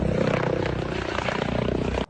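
A medical helicopter flies low just before an emergency landing, its loud, close rotor throbbing in a dense, steady drone that fills the whole moment.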